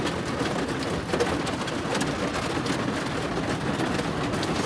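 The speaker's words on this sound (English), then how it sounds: "I love the sound of the rain." Steady storm rain patters and drums on the roof of a van, heard from inside as a dense, even hiss with no voices.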